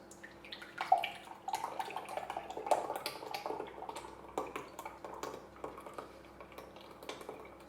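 Buttermilk pouring into a measuring jug, a soft close trickle with faint clinks and drips, steady and quiet throughout.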